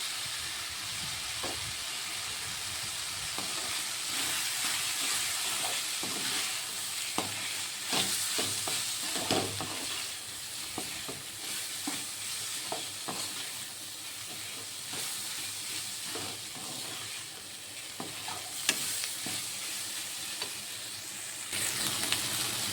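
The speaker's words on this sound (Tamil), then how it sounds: "நல்லா வெங்காயம் தக்காளி கூட இந்த கொத்தவரங்காய் நல்லா வதங்கி வரணும்." Cluster beans sauté with onion and tomato in a pan for a Tamil poriyal. A continuous close sizzle and hiss runs throughout, broken by frequent scraping stirs, with no talking.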